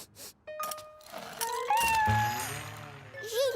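A small cat, Gilbert, meows several times in a cartoon setting, with short rising and falling cries close by and cartoon speech around them.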